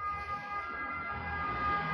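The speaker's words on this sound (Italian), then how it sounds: "Oh, arriva un'ambulanza." A distant ambulance siren holds a steady, faint wail in the background for a short moment, with no voices over it.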